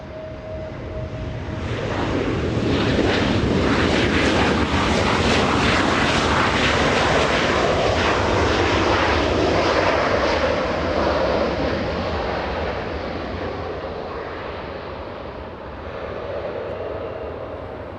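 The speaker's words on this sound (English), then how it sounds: "The Spirit of Canada coming in, WestJet 1512 from Calgary" WestJet Boeing 737-800 "Spirit of Canada", arriving from Calgary at LAX, passes overhead with a loud jet roar that builds, peaks and slowly fades, heard alone without talk.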